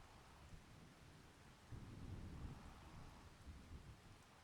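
Thunderstorm with rain in the farming video game Farming Simulator 25: steady, soft rainfall hiss with a low rumble of thunder swelling in the middle, quiet and without talk.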